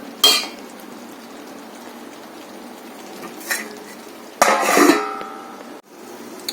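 During cooking of a prawn roast in thick gravy, a metal lid clatters onto a pan. There are sharp clinks, then a longer scraping rattle over a quiet kitchen background.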